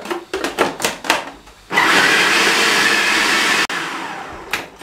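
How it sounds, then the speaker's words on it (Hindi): Electric chopper blitzing torn bread slices, a few short clattering pulses and knocks, then a loud steady motor whir for about two seconds that cuts off abruptly. "चॉपर में डाल देंगे तोड़ के इस तरीके से और इनको चॉप कर लेंगे"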